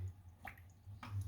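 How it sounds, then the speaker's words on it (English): Water dripping into a gutter outside during a coal fire back boiler leak, two faint isolated drips about half a second apart over a low background hum. "That drip was in the middle of the gutter."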